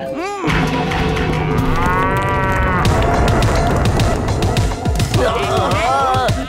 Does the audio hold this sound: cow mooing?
yes